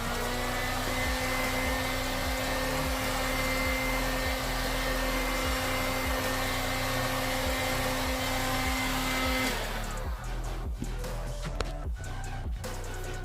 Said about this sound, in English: Let's help speed things up. The heat gun.